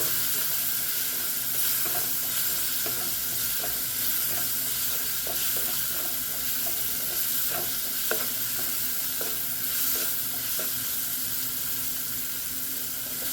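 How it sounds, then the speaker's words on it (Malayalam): Marinated wild lemon pickle is stirred in a pan, a dense continuous sizzle and frying hiss with repeated spoon scrapes and clinks running steadily throughout. "മാഗ്നേറ്റ് ചെയ്ത് വെച്ച വടുകപ്പുളി നാരങ്ങ ഇളക്കി."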